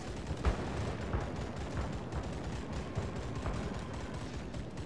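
Anti-aircraft guns aboard the Yubari cruiser in World of Warships fire at attacking planes, a dense, moderately quiet rattle of rapid shots and muffled bursts running steadily throughout.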